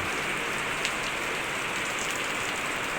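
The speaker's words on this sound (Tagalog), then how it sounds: "Ang lakas na naman ng ulan sa South Belfort, Santa Rosa City, Laguna." Heavy, steady rain pours down in a dense, continuous hiss over South Belfort, Santa Rosa City, Laguna, loud and unbroken throughout with no voices.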